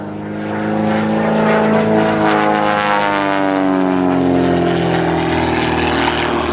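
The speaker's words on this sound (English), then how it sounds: "as he now torque rolls the airplane at the very top" Skybolt 300 aerobatic biplane at the Yarmouth Airshow, its propeller engine droning loud and near with a strong steady harmonic whine whose pitch slowly falls as the plane torque rolls at the top of a climb.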